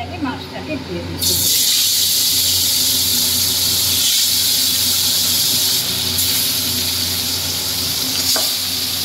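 Koi fish pieces hitting hot oil, a sudden loud burst of sizzling that settles into a steady close crackling hiss, with a voice briefly heard under it.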